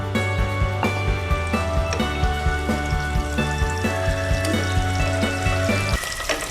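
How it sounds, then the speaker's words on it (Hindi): Eggs fry in hot oil in a pan seasoned with salt, turmeric and chili, giving a steady close sizzle with faint ticking pops over a low continuous hum. "अब हम अंडे डालेंगे इसमें और इन्हें फ्राई करेंगे।"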